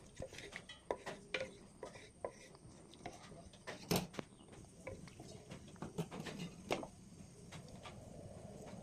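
A spoon stirring tomato rice with added water and salt in a pot, a series of close scraping clinks and wet knocks in an irregular rhythm, with a few louder metallic hits.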